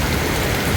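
Steady rain falling outdoors during the rainy season, a dense, even hiss of drops filling the short moment without pause and with no voices over it.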